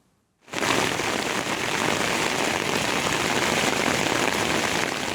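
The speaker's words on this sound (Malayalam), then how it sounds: "യു എയിൽ പരക്കെ ശക്തമായ മഴയാണ് പെയ്യുന്നത്" Heavy rain in the UAE pours steadily after a brief moment of silence, a dense, loud hiss of drops hitting surfaces without pause.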